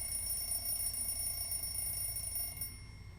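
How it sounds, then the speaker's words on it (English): An alarm clock rings with a steady high metallic jingle in the video game Everlasting Summer, loud and continuous for nearly three seconds before cutting off abruptly, with no voices. "I realized that the cause of this jingle is my alarm clock."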